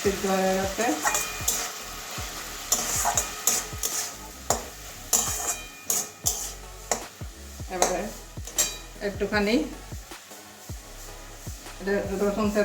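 Greens (kalmi shak with bitter gourd) fry with garlic in a pan while being stirred, a steady close sizzle broken by repeated scraping and clinking of the utensil against the pan, with a voice speaking over it.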